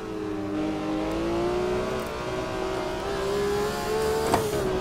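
A BMW M1 Procar race car in the Automobilista 2 racing game holds a steady, loud engine drone that rises and falls slightly in pitch as it revs through a continuous stretch of driving.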